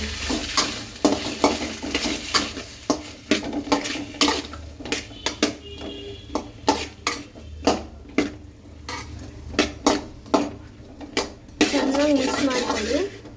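Ginger garlic paste frying in a pan for paneer and mushroom chilli, stirred with a steady run of close, rhythmic scrapes and clinks against the metal, with a soft sizzle underneath.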